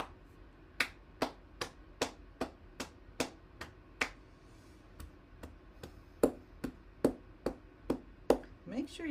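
Hands tap and clap on the body during a circulation and heart-health exercise, a steady train of sharp, close slaps spaced roughly evenly, with a brief pause midway before the rhythm resumes.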